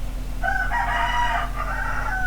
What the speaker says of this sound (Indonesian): Kalau kalian dengar suara ayam sedang bernyanyi, mohon dimaklumi.